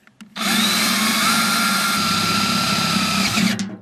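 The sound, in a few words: drilling half-inch holes in old wheelbarrow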